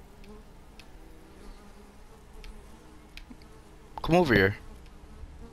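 Bees buzzing in Fortnite, a dense insect drone that swells loudly for about half a second near the end over faint background game noise, with a voice speaking briefly.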